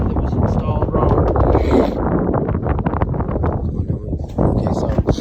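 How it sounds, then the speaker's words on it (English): Wind buffets the microphone in a steady, loud rumble while a person speaks over it, up on a metal roof. "It's really cold and windy up here."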